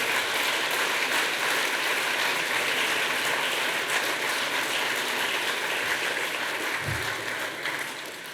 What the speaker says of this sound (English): I'll just ask for another round of applause for all those finalists and winners.